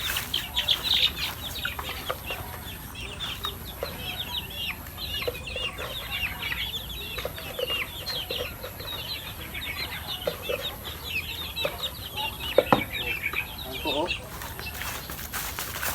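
Chickens and chicks cluck and cheep continuously around feeding time, a busy close flock chorus with occasional wing flaps, while a person talks over it.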